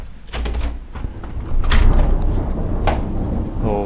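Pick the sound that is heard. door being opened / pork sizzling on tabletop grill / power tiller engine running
door being opened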